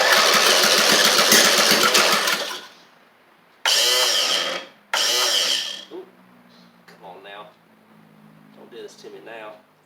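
A Briggs engine on an Eagle Star Noma riding mower cranks and sputters in loud bursts, catching briefly several times before dying, with someone talking faintly between attempts.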